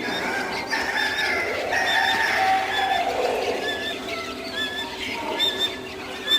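Small Japanese bantam chickens cluck and chirp in short bursts, several birds calling over one another at moderate distance against a low background hum.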